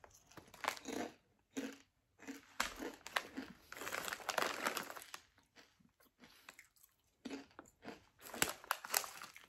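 Crunching bites of jalapeno-flavored, gluten-free kettle-style fried potato chips, close up, in bursts of crisp crackling with short pauses between chews and no talking.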